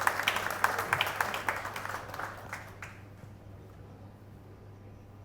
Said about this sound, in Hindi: एक बार जोरदार तालियां लगा के मीडिया का अभिनंदन किया जाए